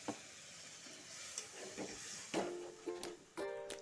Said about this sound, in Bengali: এখন সামান্য একটু জল দিয়ে দিব।